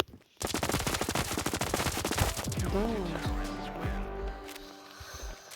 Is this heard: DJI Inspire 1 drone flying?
no